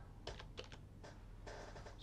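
Quiet clicks of typing on a computer keyboard, a few separate keystrokes and a short quick burst, over a low steady hum.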